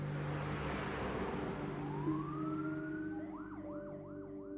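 An ambulance siren wails over a steady low background hum: a rising tone sweeps up, then settles into repeated up-and-down wail cycles, loud and close.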